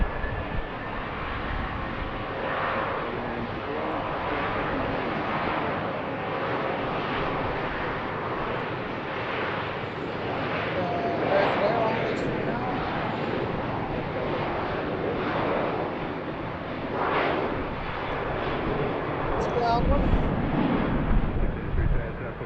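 An arriving airliner at BWI airport sends a broad, continuous jet roar that swells slowly and carries at a distance across the open field for the whole stretch.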